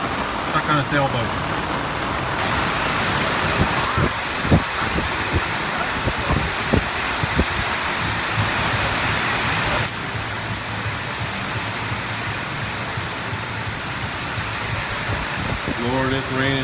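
Heavy rain pours down around a boat docked on the Mississippi River, a steady broad wash of downpour with scattered sharp taps and knocks, and a voice speaks over it near the end.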